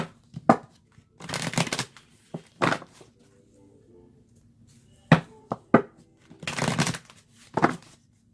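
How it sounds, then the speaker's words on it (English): Several quick ruffling bursts of playing cards being shuffled, close by, separated by short pauses with a faint low hum underneath. "These I'll give a little shuffle."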